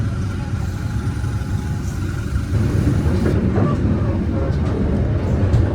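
A commuter train rumbles with a low engine drone that swells as it departs Sepanjang station in Indonesia, a steady heavy mechanical roar throughout.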